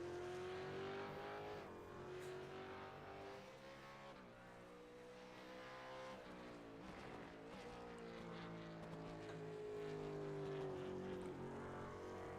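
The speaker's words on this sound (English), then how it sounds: "Let's get ready for him to have a run here in the 777 Mustang." A Ford Mustang race car from the V8 Supercars series lapping the track, its engine a continuous loud roar with rising and falling pitch through gear changes and corners, sustained throughout.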